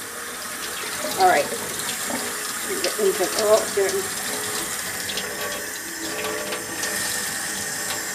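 Cool tap water runs steadily over a small doll being soaked in a sink, a continuous close splashing flow while a person speaks briefly over it.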